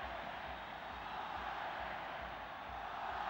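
Football stadium crowd during Venezuelan possession in a Copa match between Venezuela and Bolivia, a steady broad roar of distant spectators, even and sustained, fairly faint, with no commentary over it.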